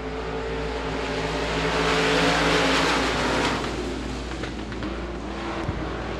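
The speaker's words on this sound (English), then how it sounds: "Cars going to be going six laps on the round to Devil's Bowl Speedway." Limited modified race cars lap Devil's Bowl Speedway in a dirt-track race, their engines roaring together in a loud, sustained drone that swells and recedes as the pack passes, with no voices.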